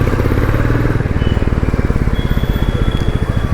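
A Royal Enfield Classic 350 motorcycle engine runs with a fast, steady thumping pulse, loud and close, showing an engine check warning light.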